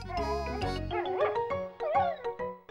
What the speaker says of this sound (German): ihre kleine Hundefreundin.